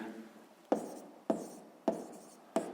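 Pen strokes on paper while numbers are written down for a sixth-grade maths exercise: four sharp, evenly spaced scratching taps, each fading quickly, close and fairly quiet with no talk.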